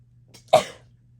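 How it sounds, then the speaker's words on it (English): A single short, sharp sneeze bursts out once amid a quiet room with a faint steady hum, then fades quickly. "I had to sneeze"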